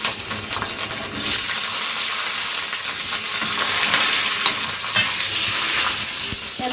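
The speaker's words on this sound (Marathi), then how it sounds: "आपल्याला गॅस स्लो करायचा आहे आणि मिरची आणि लसूण जे आहे ते तेलामध्ये असा सोडायचा आहे" Green chilies and garlic for a spicy chili-tomato thecha fry in oil over a low flame, giving a loud, continuous crackling sizzle with faint stirring scrapes throughout. No one speaks.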